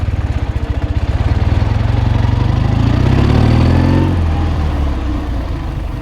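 A 1973 Chang Jiang motorcycle engine chugs at low revs, then rises in pitch as it pulls away in first gear and accelerates, steady and close throughout.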